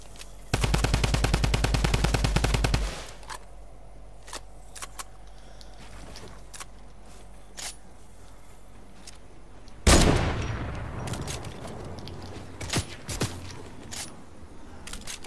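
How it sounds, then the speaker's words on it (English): A Fortnite drum gun fires a loud rapid burst of close automatic shots, followed after a pause by a booming blast and scattered clicks and game sound effects. "Drum gun."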